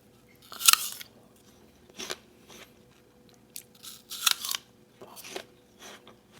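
Crisp, loud bites and crunchy chewing of a Cosmic Crisp apple, close up, coming in several separate bursts with quiet pauses between them and no talking.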